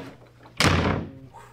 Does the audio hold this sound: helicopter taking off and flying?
no